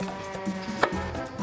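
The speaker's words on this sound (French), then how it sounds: "Je recoupe en deux par-dessus et on fait des petits cubes" Knife chopping a peach into small cubes on a cutting board, soft quick taps in an uneven rhythm with one sharper knock, close and fairly quiet, no talk.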